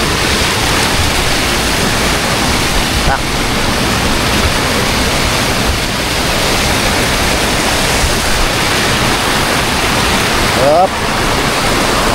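Loud, constant roar of floodwater rushing through opened gates in a river, filling the scene, with a couple of brief voices speaking faintly under the noise.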